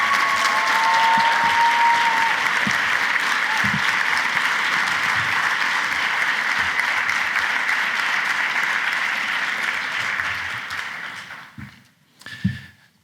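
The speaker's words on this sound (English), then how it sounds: "Please stand so we can give you a round of applause." An audience at an evening charity celebration gives honorees loud, sustained applause that fills the room evenly, then fades into scattered last claps and a few thuds.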